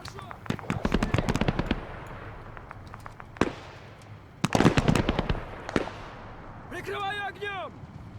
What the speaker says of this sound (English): Almost sounds like a heavy machine gun engaging from somewhere down the way.